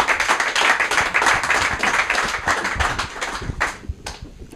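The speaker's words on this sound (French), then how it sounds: "nous applaudissons encore très fort" Audience clapping loudly for a comedian's entrance on a television arts show, brisk dense hand claps from a studio crowd that thin out and fade over the final second.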